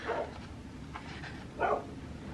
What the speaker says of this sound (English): Of course she's barking.